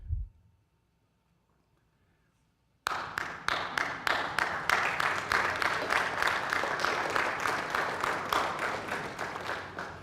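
A church congregation breaks into sustained applause after a quiet pause, many hands clapping together in a dense, steady roar that fills the room and slowly fades.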